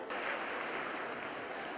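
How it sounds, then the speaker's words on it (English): Brief, faint applause from an audience at a school's silver jubilee annual prize distribution, an even spread of clapping heard from a distance. "Audience, please give a big round of applause on this special occasion"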